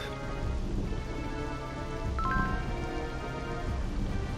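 Rain in the Legend of Zelda Four Swords Adventures video game, a steady hissing downpour under game music with a brief bright chime partway through.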